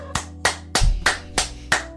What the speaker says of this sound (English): booty clap sounds